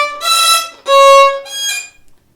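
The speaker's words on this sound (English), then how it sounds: "Because if you won't have a really beautiful left hand hold, you will sound squeaky." A violin played with a poor left-hand hold gives three bowed strokes with a thin, squeaky, harsh tone, each swelling and fading, close and solo with no speech.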